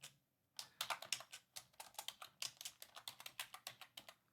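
Quick, crisp keystrokes tapped on a computer keyboard, a steady run of close clicks after a brief silence, with no talking.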